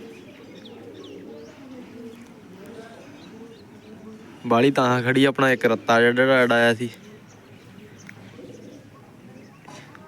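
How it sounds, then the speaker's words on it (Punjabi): Red-wattled lapwings give a loud burst of rapid, repeated shrill calls lasting about two seconds, rising over quieter background talk. "ਟਟੇਰੀਆਂ ਬੋਲੀ ਜਾਂਦੀਆਂ ਨੇ"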